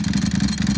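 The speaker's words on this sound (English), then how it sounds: "God, this bike is so loud." A Ducati Panigale V4R race motorcycle runs loud and close, its engine giving a rapid, throbbing, pulsing burble through a brief stretch with no voices.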